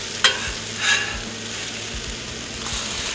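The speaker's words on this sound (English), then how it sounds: "Now that our hash browns are browning up on the bottom, we're just gonna flip these over." Hash browns sizzle steadily in a skillet for a leftovers breakfast, with a few spatula scrapes and soft thuds as they are flipped and stirred, close and continuous with no talk.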